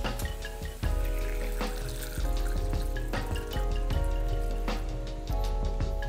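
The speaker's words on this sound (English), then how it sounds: "I'm adding water." Water pours and splashes into a metal pot of black-eyed peas in an uneven stream, with clinks and knocks as the pour is repositioned a few times.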